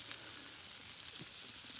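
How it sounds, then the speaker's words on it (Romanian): Small pieces of pork frying in a pan for a Romanian Oltenian dish, a soft, steady sizzle and faint crackle alone throughout. "Le punem la prăjit."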